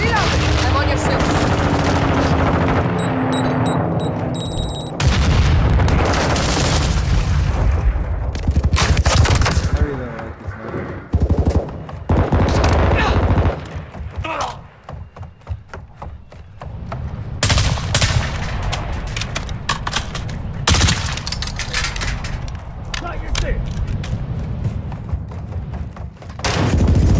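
Rapid M4 rifle fire and other gunfire in Call of Duty: Modern Warfare II multiplayer rattles loud and close in repeated bursts, with thuds and explosions, while voices call out over the shooting.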